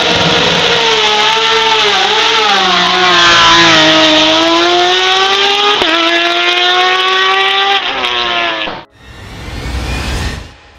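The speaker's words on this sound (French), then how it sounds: "Avec 115 décibels, la Porsche 911 RSR est une véritable star des circuits d'endurance" A Porsche 911 RSR endurance race car with a naturally aspirated flat-six screams loud and close, its pitch rising and falling through gear changes before cutting off abruptly, then a short burst of noisy roar returns.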